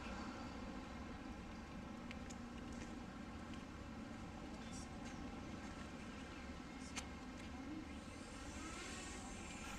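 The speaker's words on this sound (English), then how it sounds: "That was a Mavic Mini you heard in the background taking off to film the actual flight." A small DJI Mavic Mini drone takes off outdoors, giving a steady, faint whirring buzz that holds evenly throughout, distant and blended with light background noise.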